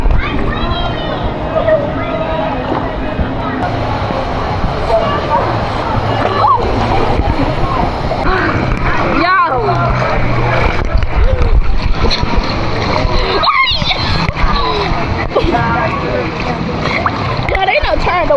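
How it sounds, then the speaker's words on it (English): Wave pool waves splashing and sloshing continuously at a water park in Orlando, Florida, loud and close, with people talking and children playing throughout. "they done turned the waves on"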